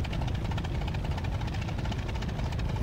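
A steady, droning aircraft engine from a flight video game playing a fighter-like plane with a rear turret, a continuous rumbling roar with rapid pulsing, moderately loud and uninterrupted.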